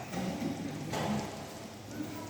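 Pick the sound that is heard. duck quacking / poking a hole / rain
rain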